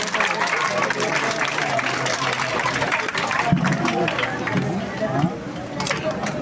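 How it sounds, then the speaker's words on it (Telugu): Students clap at a school Independence Day event, giving sustained, dense applause for several seconds while someone speaks over it through a loudspeaker. "క్లాప్స్ గట్టిగా కొట్టాలి"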